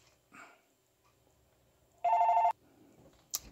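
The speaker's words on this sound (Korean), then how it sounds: "아, 전화 오네요." A phone rings once with a short electronic tone burst, close and clear, amid quiet room sounds and a few small clicks.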